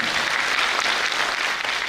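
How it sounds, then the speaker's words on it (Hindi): Audience at a Brahma Kumaris dedication ceremony breaks into dense, sustained applause, many hands clapping loudly and evenly throughout with no voices on top. "कितना जोरदार तालियों के साथ इनका सम्मान करना चाहिए।"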